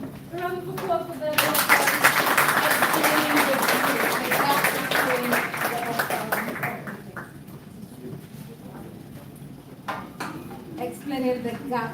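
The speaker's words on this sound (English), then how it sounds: "A round of applause for them." Audience applause at a college research conference, a loud burst of clapping that swells for several seconds, then thins out and fades toward the end, with a few scattered claps lingering.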